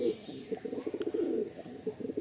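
Madrasi pigeons cooing softly in a loft, a quiet run of low, rolling coos repeating in quick pulses, close by but faint.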